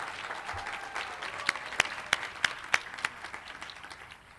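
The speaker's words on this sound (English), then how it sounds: "Let's give them a round of applause." Scattered, fairly distant applause at the Malverne High School 2019 graduation ceremony: a handful of sharp individual claps stand out at a steady pace over a faint murmur of clapping, quiet overall and thinning toward the end.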